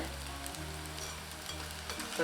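Soya chunks deep frying in oil, a steady close crackling sizzle with a low hum underneath.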